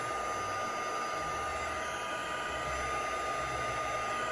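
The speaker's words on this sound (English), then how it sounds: "once the heat tool gets heated up, you can see it'll work a lot quicker on your tag" A heat embossing tool blows hot air onto a Christmas gift tag, a steady whooshing hum like a hair dryer that holds constant, close and moderately loud, with no speech.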